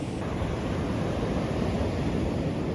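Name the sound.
waves breaking at Ladies Mile Beach, Limassol, Cyprus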